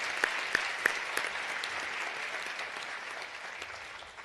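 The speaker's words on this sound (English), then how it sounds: "Let's give yourselves a round of applause." A conference audience at a women's career event applauds themselves, steady dense clapping with a few sharp close claps standing out early, continuing evenly throughout.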